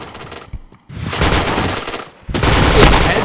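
Automatic gunfire in a first-person shooter video game, loud rapid bursts in two runs separated by a brief pause, close and harsh, with no talking over them.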